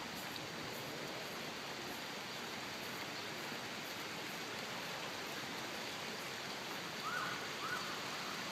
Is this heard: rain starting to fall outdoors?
yes